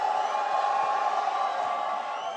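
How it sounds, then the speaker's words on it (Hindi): Audience at the Arth Fest 2023 event cheering and applauding an actor's arrival, a dense, steady crowd roar that stays loud and even throughout. "जरा जोर शोर से तालियां हो जाए"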